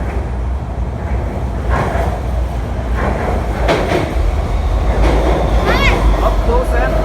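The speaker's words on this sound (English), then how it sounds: "Oh, here it comes. This train is going to Disney Resort Station." A Shanghai Metro train rumbles into the Disney Resort station with a rising low roar and faint rattling, a brief squeal near the end, while a voice talks over it.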